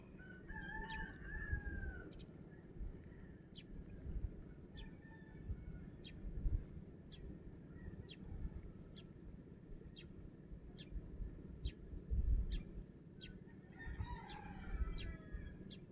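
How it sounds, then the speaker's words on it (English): At sunrise in Malapascua, Philippines, a rooster crows twice at a moderate distance, once near the start and again near the end, over a low outdoor rumble and a faint ticking sound. "You hear the rooster?"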